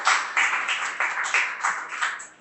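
Scattered, modest clapping from a small audience after a presentation, a handful of hands in loose uneven rhythm, fairly close and continuous for a couple of seconds with no talking.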